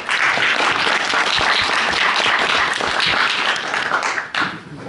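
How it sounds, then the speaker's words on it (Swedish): Audience at an archaeology presentation in Stockholm gives loud, dense applause that holds steady for several seconds before tapering off at the end. "Applåd till."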